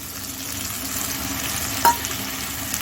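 A chili, turmeric and salt paste hits a hot pan for a spicy roasted chicken, giving a continuous close sizzle with one sharp clatter partway through and no speech.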